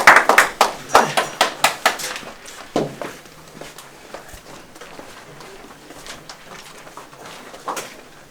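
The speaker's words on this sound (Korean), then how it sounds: "박수." A group of football players from FC Anyang claps together after a pre-match team talk, a quick burst of sharp, close claps in the first few seconds that then fades into quiet room ambience.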